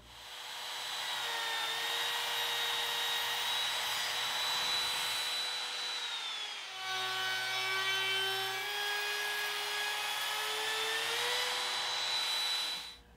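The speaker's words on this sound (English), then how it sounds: "Before running the router down the length of the board, I'll test it on the edge to make sure I'm at the correct height." A wood router fitted with a corner beading bit cuts along the edge of a wooden board, a loud sustained high-pitched whine that dips in pitch as it bites into the wood, then recovers and winds down at the end.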